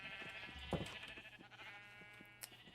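Sheep on a video game farm bleating, with a nasal bleat standing out over a quiet background and a couple of faint extra sounds afterward.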